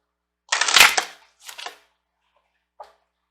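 Life purpose oracle cards being shuffled: a rustling flutter of cards riffled together, then a shorter second riffle and a single soft tap near the end, close up in a quiet room.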